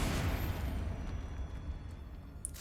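Confringo explosion spell cast in Hogwarts Legacy, a sustained low rumbling blast that fades slowly over a couple of seconds, with a sharp bright pop near the end.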